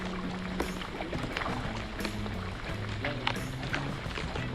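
Paddles dipping and pulling through water from a kayak on Brice's Creek, with rhythmic splashes and drips over a constant rush of wind and rain.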